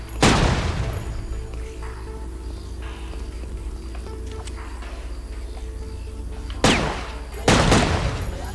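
Gunfire in the Dreamcast game Headhunter: sharp, loud bursts of shots open the clip, a steady hum and ambience follow, and then two more heavy shot bursts come near the end.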